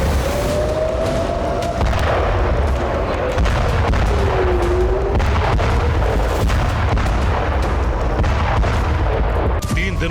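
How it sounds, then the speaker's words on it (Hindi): Destructive bombing in Beirut, Lebanon, during the Israel–Lebanon war with Hezbollah: a continuous, dense rumble of heavy blasts and booming impacts runs throughout at steady loudness, with sharper thuds near the end. "लेबनान की राजधानी बेरूत में इसी तरह से विध्वंसक बमबारी हो रही है"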